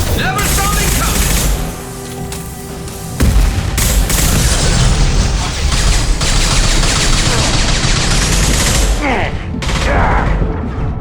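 Dense, loud gunfire and explosive booms from combat in Mass Effect 2, continuous throughout with brief dips, and a voice speaking over the noise.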